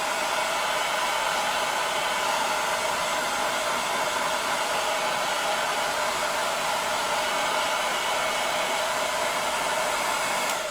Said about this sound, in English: I'll try and keep the hairdryer away from the microphone